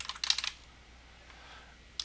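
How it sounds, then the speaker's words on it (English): Quick bursts of keystrokes on a computer keyboard as a search keyword is typed into a media app, a dense cluster of clicks up front, then quiet, with one last tap near the end. "So let's type in Toss Today."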